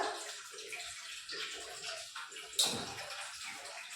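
Tap water runs steadily in a home kitchen while vegetables are rinsed, a soft, continuous splashing hiss that is fairly faint, with one brief louder splash near the end.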